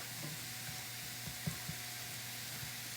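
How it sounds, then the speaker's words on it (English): Onions frying in four tablespoons of butter keep up a soft, steady sizzle, with a few light scrapes and taps as they are briefly stirred in the pan. "Now we've got our onions going over here, and I'm going to give them a quick little stir"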